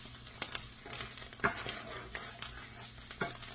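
Beef stroganoff sauce with garlic cooks in a pan while being stirred, giving a soft, steady sizzle broken by a few light scrapes and clinks of the spoon.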